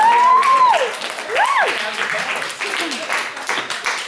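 An audience at a comedy show applauds in a loud, steady wash of clapping that slowly thins out, with a voice calling out over it near the start.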